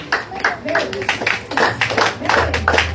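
A church congregation claps along in steady rhythmic beats, close and fairly loud, with a voice speaking over the clapping.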